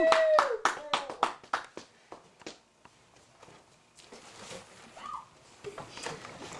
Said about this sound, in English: Let's have a round of applause for the beautiful Madeline Usher